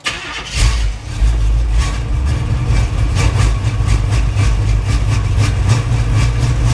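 A 1977 Chevy Monte Carlo engine, primed with a few pumps of fuel, cranks and catches, then runs loud and close with a rough, rhythmic pulsing idle.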